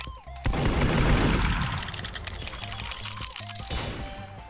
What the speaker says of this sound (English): I'm gonna shoot you, murderer.